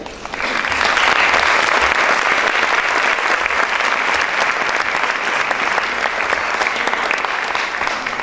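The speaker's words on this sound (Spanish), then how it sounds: "les pido un fuerte aplauso para la doctora Reina" An audience at a UNAM keynote lecture applauds Dr. Reyna Valladares with steady, dense clapping that rises quickly and holds strong and even for several seconds.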